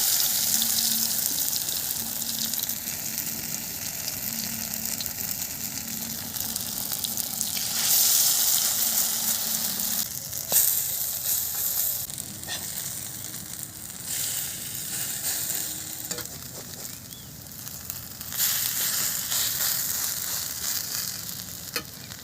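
Bottle gourd flower fritters frying in hot oil give a steady, close, continuous sizzle with a bright crackling hiss, its intensity shifting slightly as pieces are added and turned; no one speaks.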